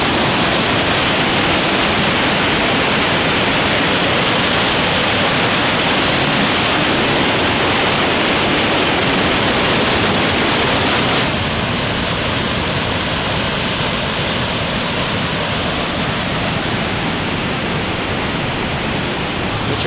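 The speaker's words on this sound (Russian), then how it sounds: "Тут есть прикольный водопад." A steady, loud roar of rushing water from a roadside waterfall in the Caucasus fills the whole time, dense and unbroken with no voices.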